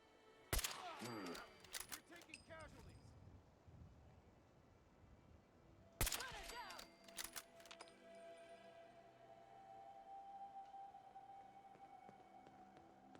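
Two bursts of gunfire from a semi-automatic rifle with a 20-round magazine in Fallout 4, each a sharp crack followed by quick follow-up shots and metallic clatter, separated by a few seconds of quiet ambient hum.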